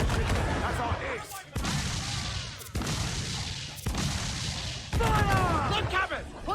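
Naval cannon fire in Assassin's Creed Black Flag: four heavy, evenly spaced blasts boom out over a constant roar of battle, while crew members shout over the barrage.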